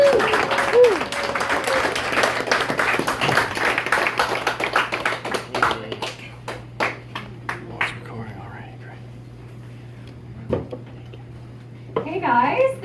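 Comedy show audience applauding for a comedian, a burst of clapping that thins into scattered claps, with a voice talking over it at the start and again near the end.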